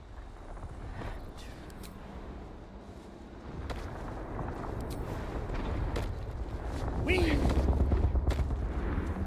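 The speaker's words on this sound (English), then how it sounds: "Why does that sound like freaking airplanes and gunshots?" Distant rumbling gunfire and droning aircraft noise in the video game Baldur's Gate 3 roll on continuously, growing louder toward the end, with a few sharp cracks over a dense background.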